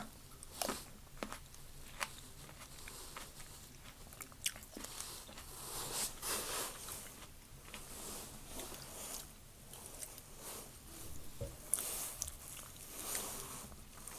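Someone close by chews and eats rice, with soft, crunchy bites repeating steadily over several seconds against a quiet background.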